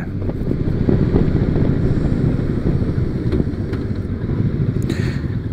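A Honda Valkyrie six-cylinder motorcycle engine drones smoothly under heavy wind rush while riding, a loud continuous low rumble with no talking.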